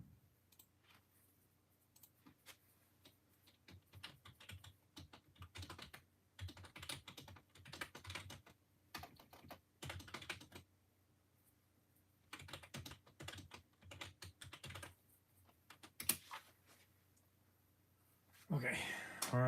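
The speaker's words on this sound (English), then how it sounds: "Typing in the wrong place." Keyboard typing comes in quick irregular bursts of clicks across the clip, with brief pauses between runs and a louder rustle near the end; a speaking voice is also present at times.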